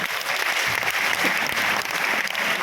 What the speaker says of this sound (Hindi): सभी आर्टिस्ट के लिए जोरदार ताली